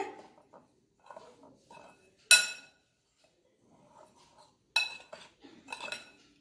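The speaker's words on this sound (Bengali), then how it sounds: "1 চামচ বেকিং পাউডার দিচ্ছি, হাফ চামচ বেকিং সোডা দিচ্ছি। এবারে ভালো করে মিশিয়ে নিতে হবে।" A spoon clinks and scrapes against a bowl while eggless carrot cake batter is mixed with baking powder and baking soda, with two sharp, loud clinks standing out among softer, sparse taps and quiet pauses.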